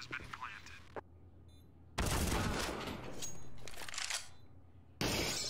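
Bursts of rapid AK-47 rifle fire crack loudly in Counter-Strike on the Nuke map, with a quieter stretch between volleys and people talking underneath.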